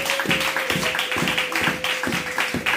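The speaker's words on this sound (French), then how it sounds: "Acclamons pour la gloire du Seigneur." A church congregation applauding, with rhythmic, steady group clapping in a regular beat, fairly loud and close, over a sustained hum.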